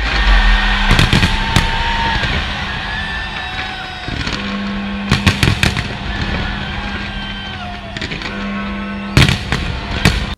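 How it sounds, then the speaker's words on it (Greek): London's official New Year's Eve fireworks go off over crowds as clusters of sharp, loud bangs and crackling bursts, spaced every few seconds over a continuous background rumble. "Το Λονδίνο καλωσόρισε πλήθη στα επίσημα πυροτεχνήματα της παραμονής πρωτοχρονιάς για πρώτη φορά μετά την πανδημία."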